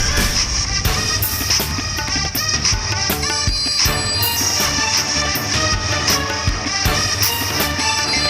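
An incoming call sets off a phone's musical ringtone, a bright melodic tune with rhythmic beats playing steadily and alone for several seconds.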